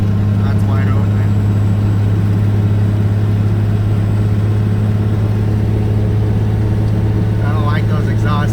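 A 12-valve Cummins diesel truck engine at wide open throttle while towing 22,000 pounds, a loud steady low drone heard from inside the cab, with someone talking over it.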